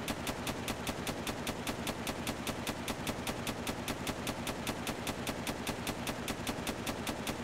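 Sustained automatic gunfire in the video game DayZ, a steady rapid stream of evenly spaced shots running unbroken and loud throughout, with no voices.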